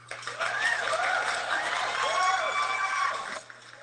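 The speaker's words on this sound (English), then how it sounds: "Let's clap it up for Wifey in the building" An audience claps and cheers for a guest at a live podcast taping, a dense wash of applause with scattered whoops lasting several seconds before it cuts off.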